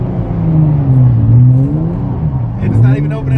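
A turbocharged Infiniti G35 accelerates with a loud, wavering engine drone that rises and falls in pitch, heard close up.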